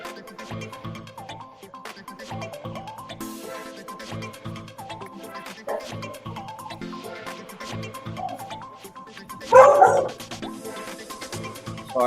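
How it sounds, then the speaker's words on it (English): Dogs bark and yip inside a barn, scattered calls rising into a louder burst of barking toward the end, heard over steady background music. "Sorry about the dogs"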